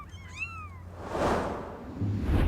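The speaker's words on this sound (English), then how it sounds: "2 beautiful cats with 2 incredible sets of whiskers" A cat gives a single clear, close meow, followed by soft rustling noise.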